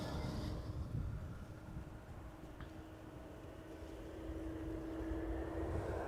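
A United Airlines Boeing 787-8 Dreamliner arrives at Amsterdam Schiphol, a steady distant engine rumble with a faint whining tone that swells slightly toward the end.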